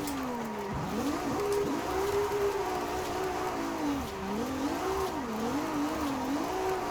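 A Ferrari 296 GTB V6 engine in Forza Horizon 5 holds a steady, continuous drone that rises and falls in pitch with throttle and gear changes, loud and close with no talk.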